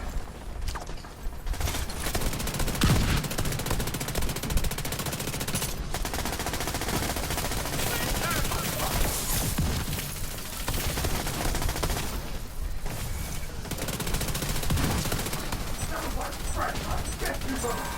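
Gunfire in The Division 2 during a Foundry raid runs as dense, continuous rapid shooting with bursts and impacts, mixed with game effects and voices talking throughout.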